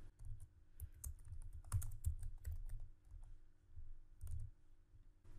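Quiet, irregular clicking of keys on a computer keyboard, with a few louder taps and short pauses between bursts of typing.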